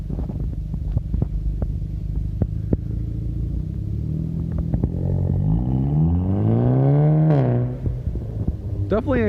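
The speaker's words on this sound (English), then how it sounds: "Here's what it sounds like driving away." Hyundai Elantra Sport with no muffler idles with a rough burble, then revs up loudly and pulls away, its raspy exhaust sweeping through the gears before fading.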